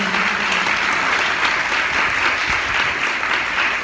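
Loud, dense clapping from a worship congregation at a live Christian service in Lahore, a continuous wash of hands filling the whole stretch with no pauses.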